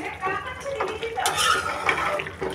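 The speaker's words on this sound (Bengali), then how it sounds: "এখন শাকটাকে লাড়াচাড়া দিয়ে দিব" A spoon clatters and scrapes in a pot of simmering chicken and spinach curry, giving short close metallic knocks and stirring strokes over a soft bubbling background.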